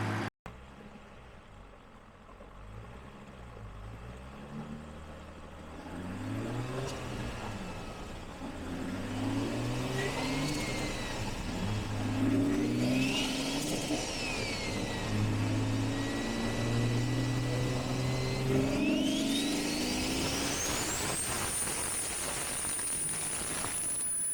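Toyota Supra MK4 engine started on a dyno, running steadily and loud with repeated revving swells and a rising whine, heard alone without talk.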